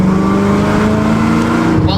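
A blown LS3 V8 in a race truck bangs against its rev limiter, a loud, sustained high-rpm roar held steady and close with a harsh stuttering edge throughout.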